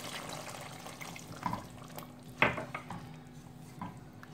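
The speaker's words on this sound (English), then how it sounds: "So now add water according to the gravy you want." Water is poured into a pot of simmering Kokni-style chicken curry, with a short splashing pour and a clink or two of a utensil against the pot, close and quiet, with no talking.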